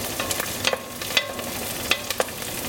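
Green bell peppers frying in oil in a pan, giving a loud, steady close sizzle with occasional light clicks from stirring, and no talk.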